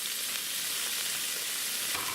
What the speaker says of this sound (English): it seems like our wok is hot, so now we're going to take the cubed ham. We're going to put that in our wok